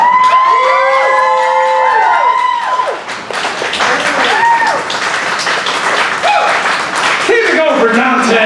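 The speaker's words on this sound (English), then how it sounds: "Keep it going for Dante" Crowd at a poetry slam in Dayton, Ohio applauds and cheers for the poet Dante, with steady loud clapping, whoops and excited shouts throughout. An emcee's voice rises over the crowd in places.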